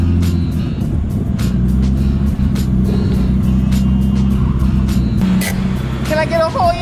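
Nissan R32 Skyline with a new exhaust, idling and blipping in a steady low engine rumble with short throttle stabs, close and loud, while people talk over it.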